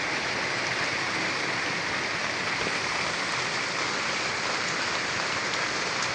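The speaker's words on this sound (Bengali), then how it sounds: "এই তো বৃষ্টি হচ্ছে" Steady rain falls in a village under bright sun, a dense, even roar of drops on surfaces, loud and close, without a break.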